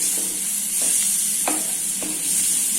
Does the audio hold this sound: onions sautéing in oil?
yes